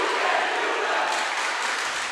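Attleboro fans cheering at a high school volleyball match against Mansfield: a steady, loud wash of crowd cheering and applause in a gym, sustained throughout.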